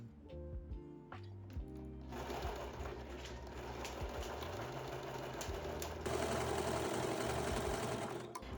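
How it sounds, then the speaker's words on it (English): Sewing machine stitching the outer and inner seams of a micro mini skort, a steady close mechanical whirr running nearly throughout, with a brief pause early on and a louder stretch near the end; no talking. "I'm going to start by sewing together the out seams, and then also right after I will sew the inseams together."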